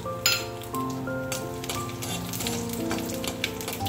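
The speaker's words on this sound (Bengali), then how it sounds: "দুটো শুকনো লঙ্কা ফাটিয়ে দিয়েছি আর একটু গোটা জিরে" Dry red chillies and whole cumin seeds spluttering in hot oil in a kadai, a busy close crackle and sizzle with scattered pops and a few light metallic clinks, no voices.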